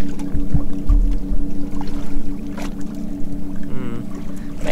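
A boat motor runs unevenly during shrimping on the water, its low tonal drone wavering under splashing and handling noises; close and loud, no clear speech.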